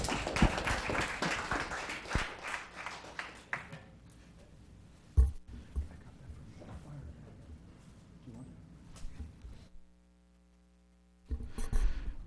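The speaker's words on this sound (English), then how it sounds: "One more round of applause for Mr." Applause rises at a town council meeting for a departing honoree, dense clapping at the start that fades into scattered claps and room noise, followed by a near-silent gap and a brief return of sound.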